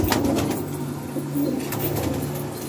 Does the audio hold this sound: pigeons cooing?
yes